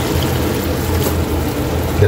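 Water poured from a small glass into a cooking pan while pancit is being made, a steady rushing splash that runs evenly and close by throughout.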